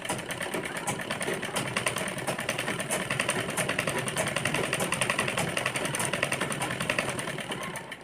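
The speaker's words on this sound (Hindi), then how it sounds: "लेकिन मैं सिलाई लगा रही हूँ" A sewing machine runs continuously, stitching a double frill on a stylish top, a fast steady mechanical whirr with rapid clicking that stays close and even throughout.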